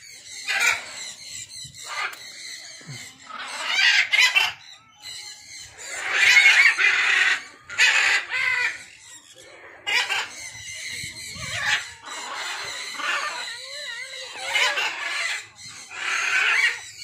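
Peacock calls at a countryside cafe, loud repeated honking wails coming in several bursts with short pauses between them, alongside other fowl sounds nearby.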